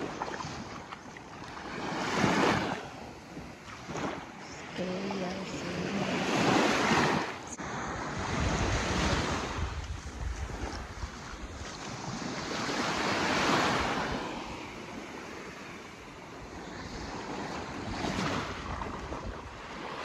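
Ocean waves roll onto a Sipalay beach, surging and receding in slow swells every few seconds, close and fairly loud, with wind gusting across the microphone and no voices.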